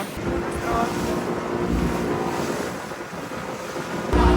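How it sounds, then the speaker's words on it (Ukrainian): Cold sea waves on a tropical beach at high tide, breaking and surging around a swimmer, with steady broadband wash and wind buffeting the microphone, a heavier surge closing the stretch. "Дуже класні хвилі, на них так класно стрибати."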